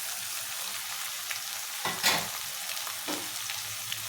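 Coriander powder and chili powder sizzle in oil in a prawn and drumstick curry pan. A steady, dense crackle runs throughout, with a louder stirring scrape near the middle.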